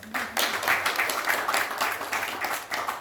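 An audience at the Hero Women's Indian Open 2023 golf press meet gives a round of applause, a steady wash of clapping that carries on evenly for a few seconds at moderate volume.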